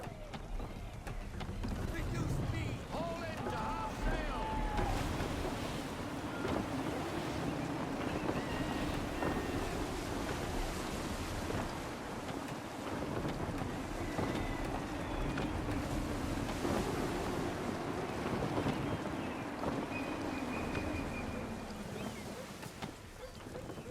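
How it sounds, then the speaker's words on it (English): Gusty wind sweeps over the open sea in Assassin's Creed III, a steady loud rush with creaking sailing-ship ambience beneath, while voices talk intermittently over it. "Gusty winds can be difficult to manage."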